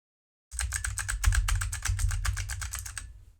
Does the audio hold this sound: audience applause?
no